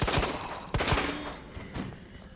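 Rapid bursts of gunfire in Resident Evil 2, several sharp close shots fired in quick succession, loud and alone.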